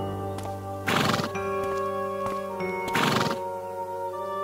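A horse neighs twice in a fairy tale set around the Bell of Atri, each whinny a loud, shrill burst about two seconds apart, with faint hoof clops between.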